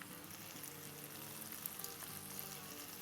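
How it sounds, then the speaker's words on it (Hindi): Potatoes frying in a pan crackle and sizzle quietly and continuously, with a soft, even hiss and small pops, no voices. "अब जब आलूओं को तकरीबन हो गए हैं फ्राई होते हुए, 7-8 मिनट हो गई है"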